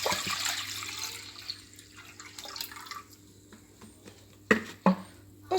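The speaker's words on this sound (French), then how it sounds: "nous allons verser le lait" One litre of milk poured into crêpe batter in a bowl gives a steady watery splash and trickle that slowly thins, then a few sharp knocks near the end.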